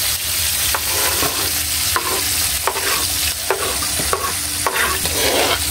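Tomatoes frying for chop suey sizzle steadily in a pan while a spatula stirs them, with repeated scraping strokes at a fairly even rhythm over the constant hiss. No voices.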